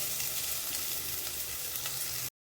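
Spices tempering in hot oil for sambar give off a steady, close, bright sizzle and crackle, mostly alone, before the sound cuts off abruptly at the end.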